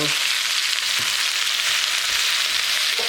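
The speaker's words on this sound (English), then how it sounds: "Give it one more good stir." Crispy shrimp and scallops fry in a hot pan, a loud continuous sizzle filling the sound with a few soft scrapes of stirring.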